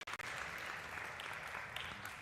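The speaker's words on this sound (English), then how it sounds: "Big round of applause for Dr." Audience at an engineering symposium breaks into steady applause, a dense wash of clapping from many hands that continues evenly without pause.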